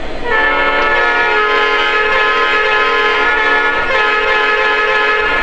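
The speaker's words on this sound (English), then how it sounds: "That's that great horn that very few SD70ACes had." A loud, sustained multi-tone horn from a Lionel model PRR Heritage SD70ACe diesel locomotive blares continuously and steadily, close and with no pauses.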